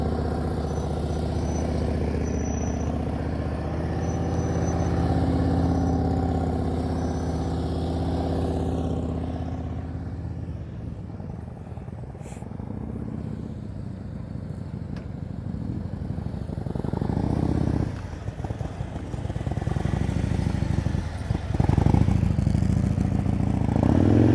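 A motorcycle engine during slow-speed riding practice around cones, a steady close idle and low rumble with throttle changes and occasional clatter, running continuously on its own.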